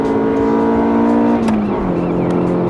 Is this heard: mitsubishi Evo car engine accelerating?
yes